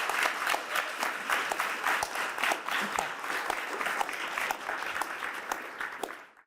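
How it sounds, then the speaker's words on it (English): A crowd at a zoning upgrade kickoff event applauds the panelists, sustained, even clapping from many people that carries on for several seconds and then fades out. One short spoken word comes near the end. "can we get an applause for the panelists for just sharing their expertise?"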